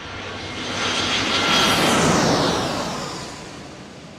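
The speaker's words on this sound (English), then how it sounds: "Here comes Air Canada A320, our friends from the north." An Air Canada A320 airliner passes by an airport runway, its jet roar swelling to a peak and then fading in one broad, loud wash with no voices over it.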